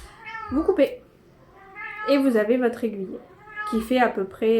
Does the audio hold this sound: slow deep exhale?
no